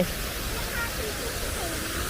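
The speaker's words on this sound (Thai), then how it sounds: "ไอ้ก็คือน้ำตก" A waterfall at a lion park zoo gives off a steady broadband rush of falling water, even and continuous at moderate volume.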